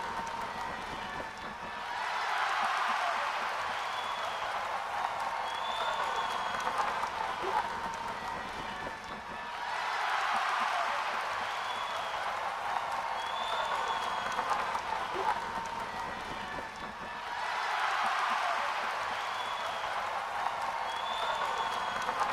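Applause for a display of skill and swordsmanship, as a king rises from his throne: a dense, steady wash of crowd clapping that swells and dips in a repeating cycle, with no voices over it.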